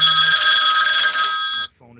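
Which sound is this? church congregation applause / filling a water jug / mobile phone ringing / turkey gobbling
mobile phone ringing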